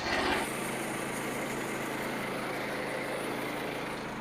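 A sawmill engine runs steadily while cutting a big red oak log, a constant dense mechanical roar with a slightly louder start, continuous and close with no talking.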